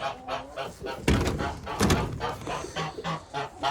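Geese honk repeatedly in a poultry coop, loud nasal calls overlapping close by, with some duck sounds and a few dull knocks among them.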